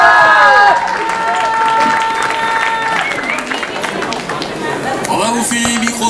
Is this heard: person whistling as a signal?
no